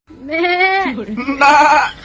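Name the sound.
voice imitating goat bleat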